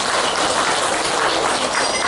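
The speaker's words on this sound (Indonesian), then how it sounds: "tepuk tangan untuk Pak Susdi" Audience applause at a PKK village gathering, a dense steady wash of clapping from a crowded hall, loud and unbroken throughout.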